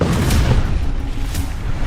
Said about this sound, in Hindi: तेहरान में मेहराबाद एयरपोर्ट के पास धमाके।